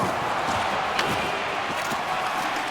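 Home crowd at a VHL hockey game, Colorado Axemen versus Lake Erie Storm, cheers and roars loudly in a dense, sustained arena wash during the final seconds, with faint thuds mixed in.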